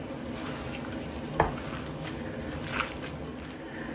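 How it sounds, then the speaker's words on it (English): Beef mince with ghee being stirred in a pan on the stove, a quiet, steady sizzle with soft scraping and a couple of light clinks of the utensil against the pan. "Now we're going to give this a nice little mix."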